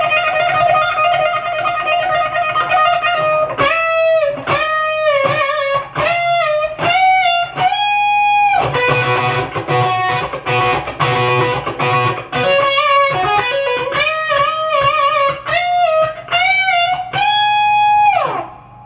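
Electric guitar solo with expressive string bends, loud and close: sustained, slightly driven notes that swoop upward and downward, quick runs between held bent tones, played alone without talk.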